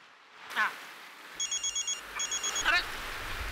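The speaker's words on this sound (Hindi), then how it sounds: "फोन की घंटी बज रही है" A telephone rings in two short bursts of repeated trilling bell pulses indoors in a Mumbai housing-society comedy scene, with brief voices around the rings.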